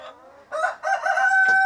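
Rhode Island Red rooster crowing in a backyard farm, a drawn-out, strained crow rising over nearby hen clucks, loud and close with a brief sharp call near the end.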